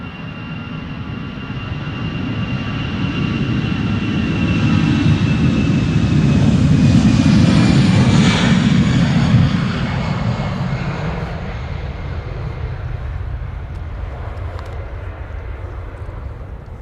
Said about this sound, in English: you can hear an EasyJet to Bristol spool up